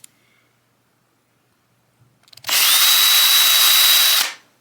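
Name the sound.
power drill drilling out threads on RC car pinion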